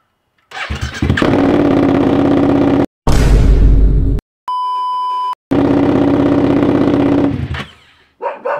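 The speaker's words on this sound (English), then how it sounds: "I'm going to start this without the exhaust on." A Triumph Trident F900R motorcycle engine roars loud and harsh with its exhaust removed, revving hard in bursts separated by brief cuts and a steady electronic beep tone.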